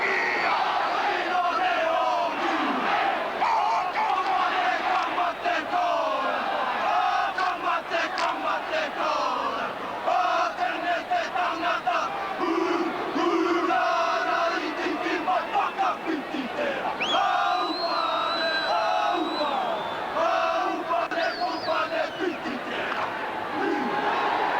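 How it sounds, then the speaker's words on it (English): A big stadium crowd at an Australia v New Zealand rugby test match roars steadily and swells, a dense continuous wall of cheering and shouting that never drops away. "Crowd has risen considerably in the last couple of minutes."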